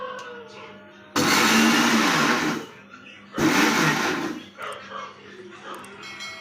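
A mixer grinder whirs loudly in two short bursts of a few seconds each, grinding for motichoor laddoo, with quieter household sounds and faint talk in between.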